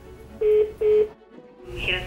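Two short, clear telephone keypad tones beep close together as a call is being transferred, followed by a faint line noise.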